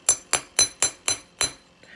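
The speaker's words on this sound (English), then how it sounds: "hammer the very edge of it" A hammer taps the edge of a wire-wrapped copper bracelet six times at an even, quick rhythm, each strike a bright metallic clink close by with no talking.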